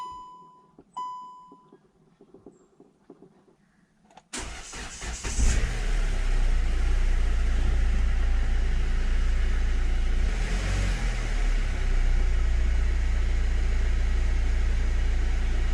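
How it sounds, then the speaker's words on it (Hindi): A car engine cranks and starts on a freshly installed battery after a few faint clicks, then settles into a loud, steady, close idle. "गाड़ी स्टार्ट करते हैं एक बार,"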